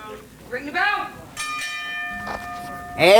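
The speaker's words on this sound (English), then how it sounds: "Ring the bell." A ring bell at a CCW women's wrestling match clangs with a bright sustained metallic ring that carries on for about a second, set between loud voices and crowd noise in an indoor arena.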